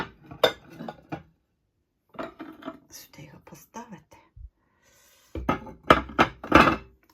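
Hand-painted Budy ceramic dishes being handled, with scattered clinks and knocks of pottery set down in short bursts, close by, mixed with quiet breathy voice sounds.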